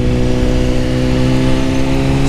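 A motorcycle engine drones steadily and loudly throughout while being ridden, holding a constant mid-pitched hum with no break or pause.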